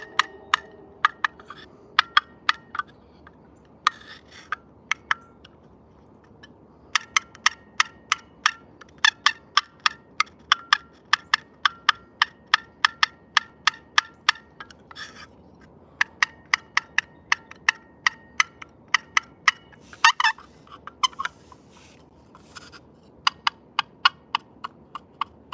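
A handheld turkey call used for hunting practice gives a long run of sharp, crisp clucks, close and distinct. They come singly and in quick bursts over a faint background, with no voices.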